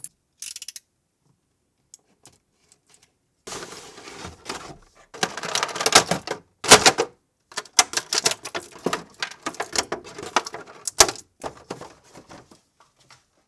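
Crinkly rustling and scraping of stiff plastic packaging as Marvel Legends Iron Man and War Machine action figures are pulled out, in irregular close bursts with quiet gaps.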